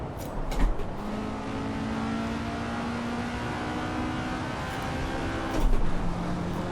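Engine of a Soviet-style formula racing car in the video game Assetto Corsa, driven flat out, with a loud, steady, buzzing tone that climbs gradually and has brief bumps of rougher noise.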